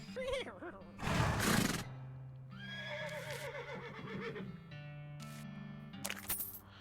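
A horse in the video game West of Loathing gives a couple of loud, shaky whinnies, with clip-clop hoof sounds and a few thumps between them, all fairly close.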